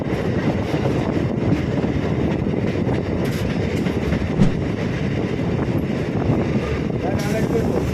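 The Sealdah–Hasnabad local train rumbles along steadily while pulling out of a station, with a dense, loud rolling roar, faint clatter and wind buffeting heard from inside the carriage.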